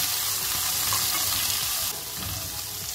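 Cut raw mango pieces and curry leaves sizzle in a hot pan while being stirred, a steady frying hiss with soft scraping stir strokes, fairly close and without talk.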